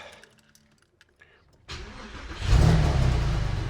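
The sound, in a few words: car engine starting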